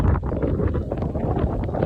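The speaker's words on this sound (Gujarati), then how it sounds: "પવન બહુ છે અને વરસાદ પણ" Strong wind with rain buffets the microphone in heavy, rumbling gusts, a constant low roar with no voices.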